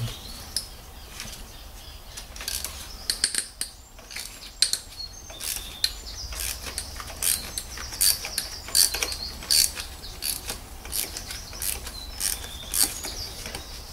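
Ratchet on two medium extensions loosening the spark plugs of a 2009 Toyota Verso, giving rapid, light clicking bursts that start and stop close by over a faint background hum.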